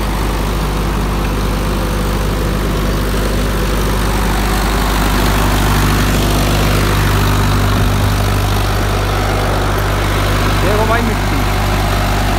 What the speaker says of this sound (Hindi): ट्रैक्टर भाई ऐसे चल गया बिल्कुल खुल के एकदम आराम से